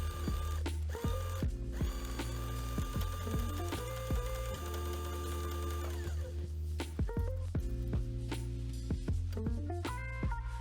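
A sewing machine runs in steady mechanical bursts while stitching a blackout curtain seam, its motor whirring and clattering close up, stopping and restarting several times with brief pauses between runs and no talking.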